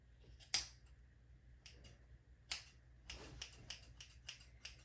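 Scissors snipping curtain bangs in hair: a few isolated crisp snips at first, then a quicker run of about six sharp cuts, close and clear in a quiet room.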